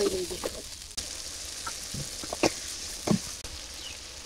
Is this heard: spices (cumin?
yes